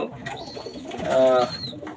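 A mother racing pigeon coos in a loft, one long swelling throaty call rising out of softer background cooing, with a faint high chirp nearby.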